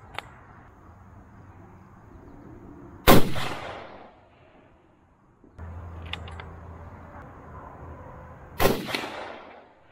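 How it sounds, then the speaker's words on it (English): Two sharp, loud gunshots from an AR-9 rifle being sighted in at an outdoor range, each a crack with a short rumbling decay, separated by several seconds of quiet background with faint rustling. "I think we put about 20 or so rounds through my AR-9"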